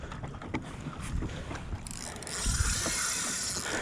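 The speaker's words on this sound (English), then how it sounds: "I've got a boat coming too." A boat approaches across open water while someone fishes, a rising broadband engine and hull wash that swells louder toward the end, with light mechanical clicks over steady wind.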